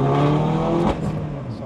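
A 306 hp Mini John Cooper Works car engine revs hard under acceleration, loud and close, its pitch climbing before dropping off sharply as the gear changes and the drive settles.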